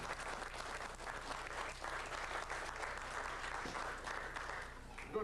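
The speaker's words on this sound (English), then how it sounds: "Hey, big round of applause." An audience at a magic club's Valentine's Day brunch applauds a magician, a steady, dense round of clapping from a fairly large crowd that holds even for about five seconds.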